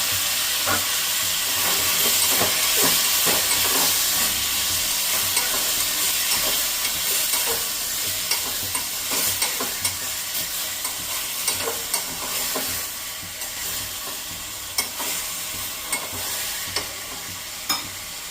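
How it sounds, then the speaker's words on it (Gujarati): Finely chopped tomatoes sizzle steadily in hot oil while making a Marathi-style green chili thecha, with a continuous bright hiss and occasional scraping clicks from stirring, close and fairly loud throughout. "તેલ આવે એટલે આપણે એમાં જે આ ટમેટા ઝીણા કાપેલા હતા એ નાખી દેશું।"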